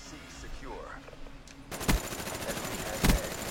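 Bursts of gunfire in a video game shootout, two loud sharp volleys standing out over a busy game soundscape with a voice faintly under it.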